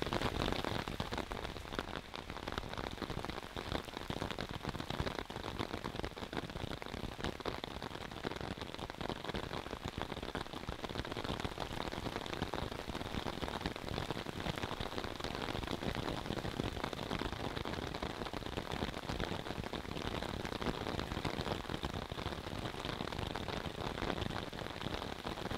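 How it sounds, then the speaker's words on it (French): Steady rain falls and patters continuously on surfaces, a dense even hiss with no other sounds. "Et enfin, la pluie s'invite"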